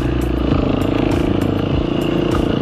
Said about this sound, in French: Donc la moto est en train de chauffer doucement.